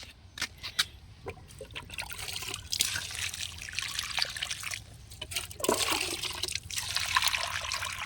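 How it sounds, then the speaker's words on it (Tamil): Water pours and trickles steadily onto potting soil around freshly transplanted seedlings, a continuous splashing and gurgling that swells and eases over several seconds, close by, with no talking. "வாங்க எல்லா செடிக்கும் தண்ணி கொடுத்துர்லாம்"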